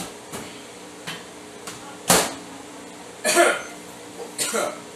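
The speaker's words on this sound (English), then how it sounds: "Damn, I'm still coughing." Several short coughing bursts from one person in a home kitchen, scattered across the moment with quiet gaps, a few sharp and close, two longer rougher fits near the end.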